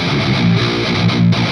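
Heavily distorted metal electric guitar through a Peavey 5150 amplifier, played without boost and no reverb, chugs loudly and up close in a short dense burst.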